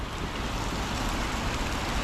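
Steady broadband rushing of a strong, fast-flowing river current, continuous and fairly close with no speech.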